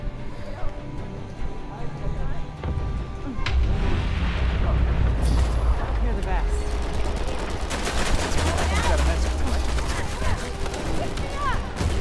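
A grenade goes off in an Uncharted 4 multiplayer match with a deep rumbling boom. Scattered gunfire and crackling combat noise follow, under players talking.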